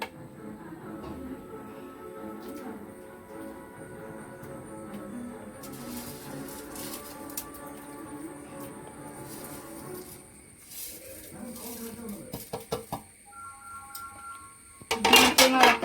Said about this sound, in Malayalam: ഇനി നമുക്കൊന്ന് ഇളക്കാം.